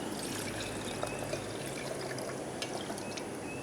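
Water pours steadily into a camping stove container outdoors, a continuous close trickle that runs evenly the whole time with no talking.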